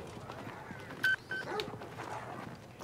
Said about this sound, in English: I do hear dogs